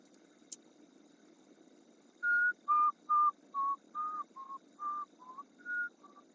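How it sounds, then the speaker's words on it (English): A person whistles a tune alone: about ten clear pitched notes in a steady, halting rhythm, fairly close and loud over a low constant hum. "you try to whistle a song, but you just can't think of one"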